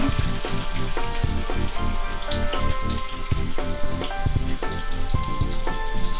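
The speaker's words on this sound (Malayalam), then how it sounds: "നെയ്യ് ചൂടാവുമ്പോൾ അതിലേക്ക് 1/4 കപ്പ് തേങ്ങ കൊത്തിട്ട് കൊടുക്കുക." Chopped coconut pieces sizzle and crackle steadily in hot ghee on a Kerala stovetop, a dense, continuous frying patter with no voices.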